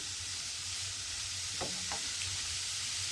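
Cauliflower with salt and turmeric sizzles quietly in a pan, and a couple of brief stirring scrapes rise over the steady frying hiss.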